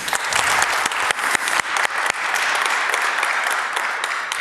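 A seminar audience on healthcare priority setting applauds the speaker at the end of a talk, with dense, close clapping from many hands that holds steady for several seconds and then gently thins.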